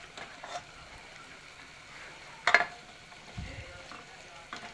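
Mutton sautés in a pan while cooking a village-style mutton rassa, a faint, low sizzle broken by a sharp clink of a utensil midway and a few softer stirring knocks.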